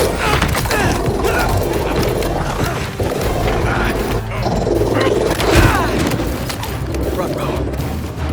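A robot dog in the Spider-Man 2 video game growls and snarls amid dense mechanical whirring, crashes and booming combat effects, loud and continuous throughout.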